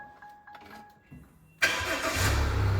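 A Tatton Eventor XL 4.5-tonne horse truck's engine cranks and fires after a few quiet clicks, then settles into a loud, steady idle.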